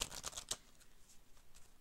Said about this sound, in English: I'm going to shuffle real quick, get a good shuffle in